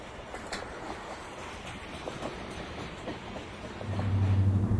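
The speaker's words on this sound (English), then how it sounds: "The train rolls over the Sacramento River arm of Lake Shasta at Lake Shore." Southern Pacific train pulled by bicentennial-painted diesel locomotives rolling across a bridge over the Sacramento River arm of Lake Shasta at Lake Shore, a steady rumbling wash with a deep engine drone swelling louder near the end.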